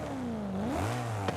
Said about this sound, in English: I'm gonna rev it once, so you see the difference